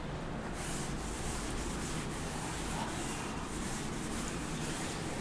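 Writing is rubbed off a board during a lecture: a steady, soft scrubbing sound, close and continuous, with no voices.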